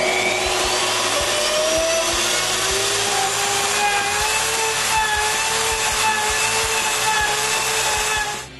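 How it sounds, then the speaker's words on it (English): A slot mortising machine cuts mortises in wood for a laundry sorting cart, giving a loud, steady motor whine with shifting pitch and constant grinding and rasping that runs unbroken for the whole stretch, with no talking. "Now it's time to switch tools and use my slot mortising machine."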